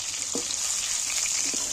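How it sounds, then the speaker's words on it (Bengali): Marinated soybean chunks frying in hot oil make a bright, even hiss throughout, with a couple of soft spatula taps as they are turned; close and steady, with no speech. "এখানে আমি ভালো করে নেড়ে চেড়ে তেলটার মধ্যে ভেজে নেব"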